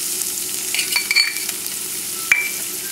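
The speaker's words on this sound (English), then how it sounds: "We're sweating these vegetables to get all the flavor out of them." Onions and celery sweating in a pan for miso soup with shrimp, a soft steady sizzle with a few light scrapes of stirring and small clinks, close and alone.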